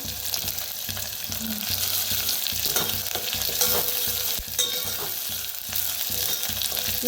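A spiced oil tempering with curry leaves sizzles steadily in a pan, close and fairly loud, with light stirring and occasional crackles.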